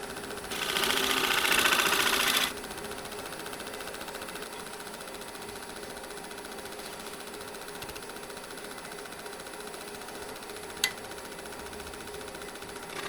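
A wood lathe spins an oak bowl with a steady mechanical hum, and a louder burst of tool-on-wood cutting lasts about two seconds early on. A single sharp tick comes later.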